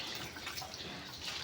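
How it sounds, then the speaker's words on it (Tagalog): Water runs steadily from an opened tap while a mother hen is being bathed with soap, a continuous faint hiss and splash with no clear breaks. "Mag-open muna ako ng tubig."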